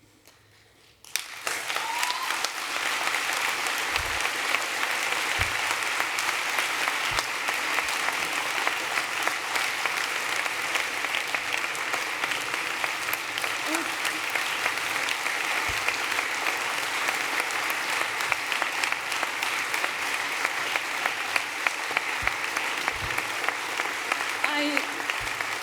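A large audience at a global youth summit plenary on health gives long sustained applause, a dense, even roar of clapping that starts abruptly and holds steady throughout.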